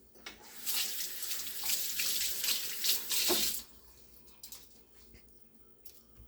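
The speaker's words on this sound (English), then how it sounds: "Now that you have it all cut out, you go ahead and rinse it." Running tap water splashes steadily as cut turkey wings are rinsed in a kitchen sink, loud for about three seconds before dropping to faint trickles and small handling sounds.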